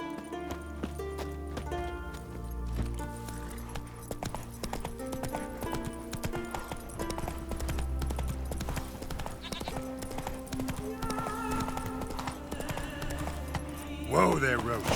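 Hooves of Geralt's horse Roach clip-clop steadily at a gallop in The Witcher 3: Wild Hunt, running beneath a full music score with game ambience throughout.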